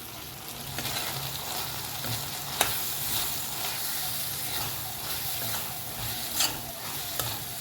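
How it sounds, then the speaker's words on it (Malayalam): Ginger garlic paste with chili powder and turmeric sautéing in a pan, a steady close sizzle with scraping stirs and a few sharp clinks of the spoon against the pan, no talking. "മസാലകളുടെയും ആ ഇഞ്ചി വെളുത്തുള്ളി പേസ്റ്റിൻ്റെയും പച്ചമണം പോണ വരെ നമുക്ക് വഴറ്റിയെടുക്കാം."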